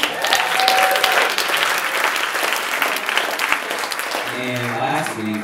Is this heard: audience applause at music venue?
yes